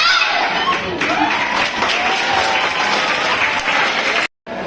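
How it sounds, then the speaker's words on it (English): Loud, dense applause from a school audience after a World Environment Day presentation by Savitri House. It continues evenly and then cuts out abruptly near the end. "Give a huge round of applause to Savitri House once again."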